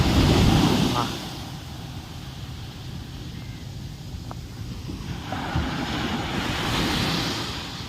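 Waves breaking on Marari or Alappuzha beach in Kerala, a steady broad wash of surf with wind noise, swelling loudest at the start and again near the end.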